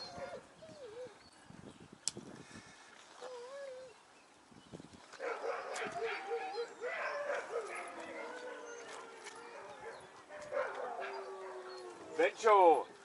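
Young sled dogs yip, whimper and bark intermittently during harnessing and pulling training, with high whiny cries and short howls, near and moderately loud, growing busier toward the end.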